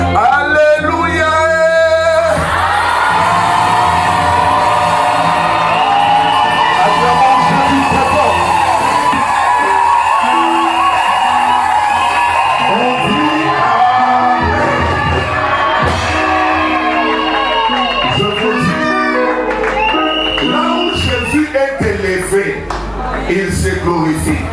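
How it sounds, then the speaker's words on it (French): Church congregation at a Sunday service shouting with joy, whooping and acclaiming after an Alleluia, a loud sustained crowd roar with cheers and cries layered over music throughout. "vous me donnez un long Amen accompagné des cris de joie et des acclamations"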